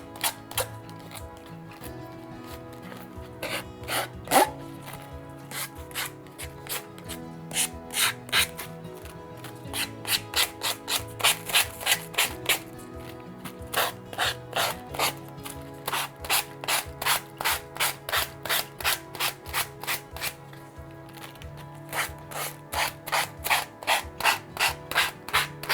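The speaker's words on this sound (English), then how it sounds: "you're just going to file it and tear it off" Paper edges of a journal page being filed, rapid rhythmic rasping strokes in repeated bursts with short pauses between them, close and fairly loud, with no talking.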